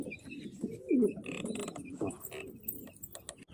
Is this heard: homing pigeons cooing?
yes